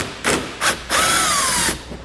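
Power tool gun driving out T25 Torx screws on a 2016 Volvo during hitch receiver installation, three loud close bursts: two short whirs, then a longer sustained buzzing run.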